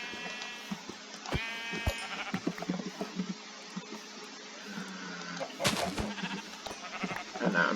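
Several Minecraft sheep bleat in short bursts over a quiet background, with clicks and thumps between the calls.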